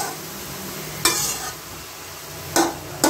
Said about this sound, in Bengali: এটাকে একটু ভালো করে নাড়লেই এটা কমপ্লিট হয়ে যাবে